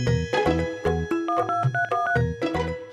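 A telephone number is keyed in as a quick run of clear DTMF tones, about a dozen beeps in uneven bursts with brief gaps, loud and close with no talking.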